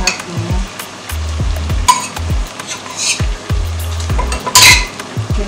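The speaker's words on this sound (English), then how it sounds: "Now I'm going to cover this one and allow it to fry." Meat and fish frying in a pot for egusi soup, with close clinks and scrapes of a utensil against the metal pot over a steady sizzle and no talk.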